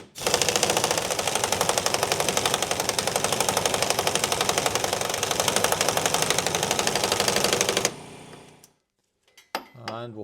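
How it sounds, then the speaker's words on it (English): Impact wrench on a gentle setting pulling new idler arm bushings into place on a Mercedes W126, a loud continuous rattling hammer for about eight seconds, then it stops and someone speaks briefly. "use the windy on a nice easy setting just to pull all that the new bushings into place"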